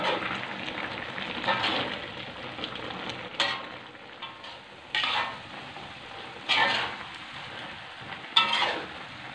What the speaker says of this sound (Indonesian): Biarkan minyaknya menggoreng rempah dulu ya.